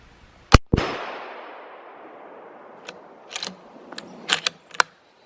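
A sharp, loud shot from a Mossberg ATR .308 bolt-action rifle with a long rumbling echo trailing off, followed by several metallic clicks and clacks from working the bolt.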